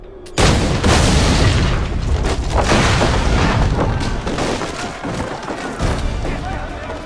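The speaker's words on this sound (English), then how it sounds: "it also gave us an opportunity to include some historical exploding barrels" Black powder barrels exploding in Assassin's Creed III: a sudden heavy boom bursts in and rolls into a long, loud rumbling roar that slowly fades.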